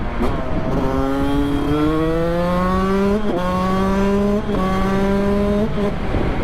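A Yamaha YZ125 two-stroke dirt bike engine drones steadily up close, its pitch climbing through gear changes as the bike accelerates on a road, with no voices over it.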